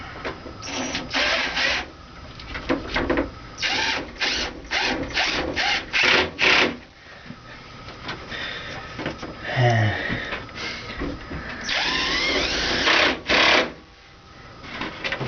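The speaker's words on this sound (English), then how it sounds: "Guess I need my drill gun." A cordless drill whirs in repeated short bursts driving screws into wood, with pauses and some rubbing and clattering between runs, close by.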